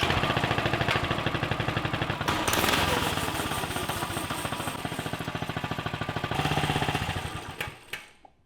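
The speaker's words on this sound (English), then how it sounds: "we'll start the engine and test our throttle, brakes, and kill switch" A small gas engine on a bolt-together go-kart runs with a rapid, loud, sputtering pulse that rises and falls as the throttle is worked, then cuts out abruptly at the end.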